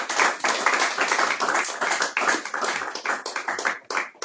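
Church congregation clapping to acclaim the Lord during a Sunday service, a sustained burst of many hands applauding at close range, fairly loud and irregular.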